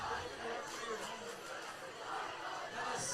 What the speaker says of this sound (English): the New Richmond crowd with the Start the Buses chant